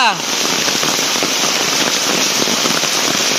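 Steady rain pours down in front of a house, a dense, continuous hiss of drops close by that holds evenly throughout with no pauses.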